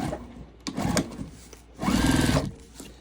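A sewing machine stitching fabric at about a 3.5 stitch length while sewing a crossbody bag, heard as two short motor runs of whirring stitches, the second longer and louder, separated by quiet pauses.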